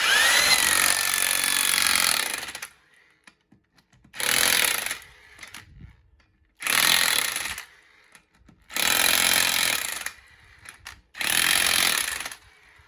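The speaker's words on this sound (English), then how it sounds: "If you're using an impact wrench, you want to be sure and not cross thread your lug nuts" Impact wrench driving lug nuts on a 2013 Dodge Avenger during a tire rotation, five loud close bursts of rattling, whirring hammering, each about two seconds long, separated by quiet gaps.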